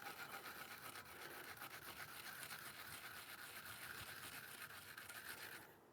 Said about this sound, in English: this is actually a wasabi grater, a Japanese wasabi grater, and I just grate it on here